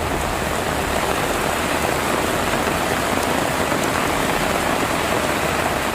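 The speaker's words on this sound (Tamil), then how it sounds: "சிவகங்கை மாவட்டத்தில் கனமழையால் சாலைகளில் மழைநீர் தேங்கி வாகன ஓட்டிகள் அவதிக்கு உள்ளாகினர்." Heavy rain pours down in Sivaganga district, where the downpour leaves water pooling on the roads. It makes a dense, loud, unbroken hiss that stays steady throughout, with no voices.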